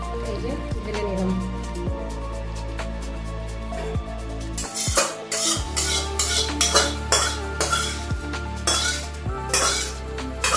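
Moong dal cooked with water lily stems is poured out of a pot, a splashy, dripping pour with clattering metal knocks, close and fairly loud.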